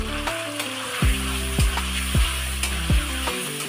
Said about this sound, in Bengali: কাতলা মাছটা সব রকম মশলা দিয়ে মেখে রেখেছিলাম, এবার দিয়ে দেবো তেলে।